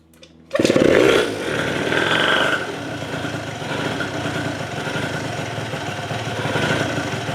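A Polini Evolution 70cc kit engine with a new cylinder, started by kicking, catches abruptly and revs loudly for a moment, then drops into a steady, close, buzzing two-stroke idle.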